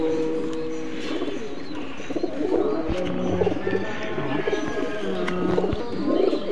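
Male Benarasi Azan pigeon cooing in repeated soft low coos, close by, with a faint background of other birds chirping and some room noise.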